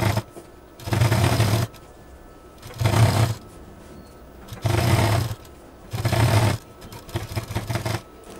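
Sewing machine stitching a thick homemade door mat or small rug, running in four or five even, loud whirring bursts about a second long, separated by brief pauses, close up with no speech.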